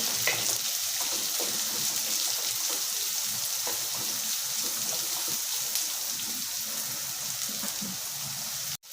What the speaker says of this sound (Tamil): வெங்காயம் வதங்கிறது